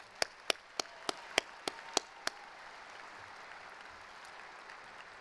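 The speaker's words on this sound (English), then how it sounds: "let's give them a round of applause." Applause at a 2019 University of Idaho spring commencement ceremony, with eight crisp, evenly spaced claps up close, then a soft, diffuse wash of distant clapping across the hall.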